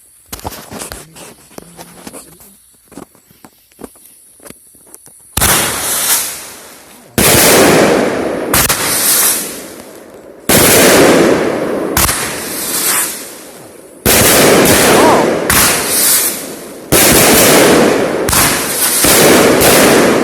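A 21-shot fireworks cake fires a rapid run of loud, close bangs in steady bursts, each shot a sharp crack with crackling tail, after a quiet few seconds of light handling sounds beforehand.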